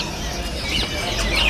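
A munia (bondol) bird at a bird shop gives a few thin, high chirps over a low background hum, one brief call near the middle and another toward the end.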